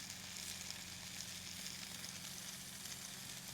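Steak fat cap seared on its side on a Blackstone flat-top griddle, with a steady, loud, close sizzle and crackle of rendering fat holding constant throughout, with no talking.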